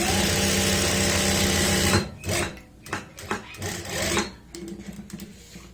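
A sewing machine stitches a pocket opening on fabric with a steady, close drone for about two seconds, then stops and starts in short uneven bursts with handling noises between them.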